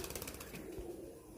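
A pigeon coos close by in a low, soft, throaty tone during a short, quiet stretch, with faint background noise and no speech.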